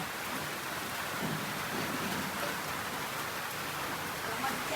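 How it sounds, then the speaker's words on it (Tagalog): Heavy rain pours steadily in a dense, unbroken hiss, with a low rumble underneath throughout, in a Philippine province. "Ang lakas ng ulan."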